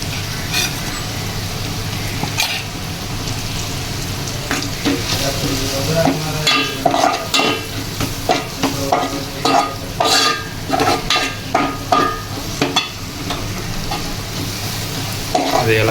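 Browned onions and masala fry in a pan, a constant loud sizzle with rapid rhythmic scraping and stirring strokes that grow busier and more regular partway through.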